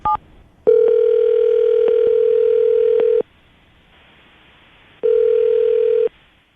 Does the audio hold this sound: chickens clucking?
no